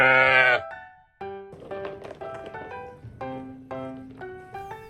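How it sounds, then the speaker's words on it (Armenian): A sheep gives one loud, close bleat lasting under a second, followed by a run of light, plinking musical notes with no further animal calls. "Ոչխարները ընտանի կենդանիներ են, նրանք շատ օգտակար են մարդու համար։"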